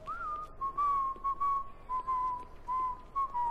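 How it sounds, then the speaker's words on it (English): A character in The Godfather video game whistles a slow, steady tune, one clear sustained note line wavering and stepping between pitches over a low background hum. "That's a nice little tune you're singing. Or whistling."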